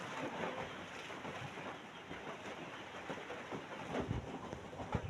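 Steady rain pours down in the morning after falling through the night, a faint, even wash of hiss with scattered soft drips and patters, continuous and alone without voices.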